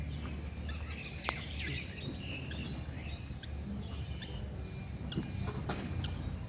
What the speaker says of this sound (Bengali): পাখির ডাকটা শুনে